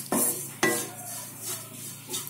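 Grated coconut roasting in a pan for Kerala-style coconut roast chicken curry, sharp spoon scrapes and clanks against the metal over a soft steady sizzle, close and alone.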